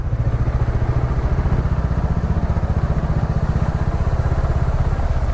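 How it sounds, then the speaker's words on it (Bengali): A motorcycle engine runs steadily nearby on a forest road, a rhythmic low putter that holds an even pace throughout. "দেখি বাইক নিয়ে কতটা এগোনো যাবে কি"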